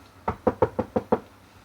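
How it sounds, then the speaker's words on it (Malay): A door of a room is knocked on from the inside with six evenly spaced, fairly loud raps, each a short hollow thud, heard alone with no voices. "pintu bilik tersebut diketuk dari dalam"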